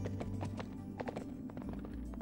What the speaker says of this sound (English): I like that sound. When the horse was running on snow.